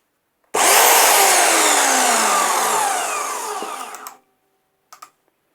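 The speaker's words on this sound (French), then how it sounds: "c'est comme une vieille perceuse ou une meuleuse, ça fait beaucoup de bruit." A Vevor portable band saw runs at its top speed, six, with a harsh, loud, continuous grinding whine that fades slightly before stopping, followed by a couple of soft clicks.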